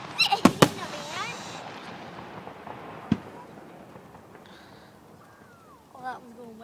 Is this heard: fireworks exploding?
yes